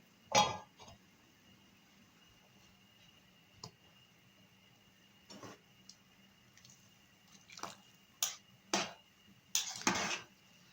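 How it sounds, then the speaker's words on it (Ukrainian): A metal lid sets down on a pot of soup with sausages and dumplings, giving a few light clinks and taps against a quiet kitchen hum, scattered across the moment rather than one single knock. "Накриваємо кришкою."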